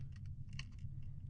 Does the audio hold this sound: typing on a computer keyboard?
yes